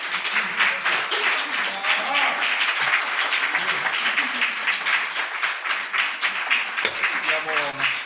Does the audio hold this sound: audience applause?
yes